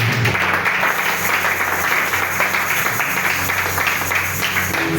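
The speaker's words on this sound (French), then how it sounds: "Acclamons plus fort pour lui" A church congregation applauds and cheers in a steady, dense wash of clapping that holds for the whole stretch, with no individual voice standing out.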